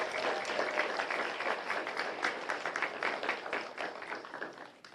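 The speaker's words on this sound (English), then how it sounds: "So let's give him a round of applause" Council meeting attendees give a sustained round of applause, even and continuous, heard somewhat distantly and softly through the chamber.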